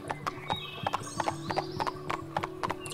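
Horse hooves clip-clopping during riding in the Barbie Horse Adventures video game, a steady rapid rhythm of crisp hoof strikes over a low looping game hum, with a whinny-like tone mixed in.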